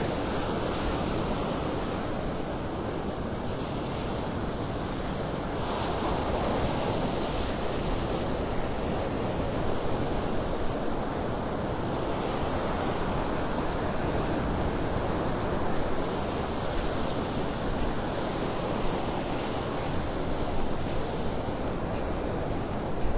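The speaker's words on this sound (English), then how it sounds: "You can tell by the way the waves are breaking, there's a big sandbar out here" Waves break steadily over a sandbar along Vanderbilt Beach in North Naples, Florida, a continuous loud wash of surf with wind buffeting the microphone and no voices.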